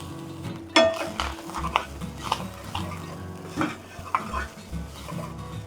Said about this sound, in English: Now I am adding some chopped coriander and one squeeze of lemon juice.